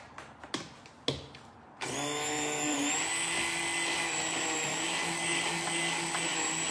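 An immersion blender runs with a steady, loud motor whine that holds evenly to the end, after a few sharp knocks and clatter at the start.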